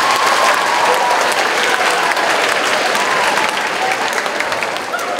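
A school talent show audience breaks into a sustained round of applause, dense and steady, filling the room for several seconds before easing slightly at the end.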